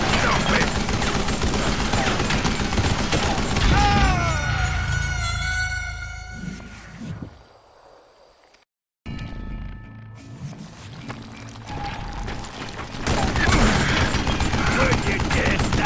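Gunfire in the Western shooter Call of Juarez Gunslinger, dense loud volleys of shots at the start and end with a brief quiet gap in between, mixed with game sounds and shouted voices.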